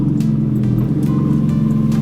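A BMW car engine, loud and close, a steady low rumble that holds throughout in a driveway, with no talk over it.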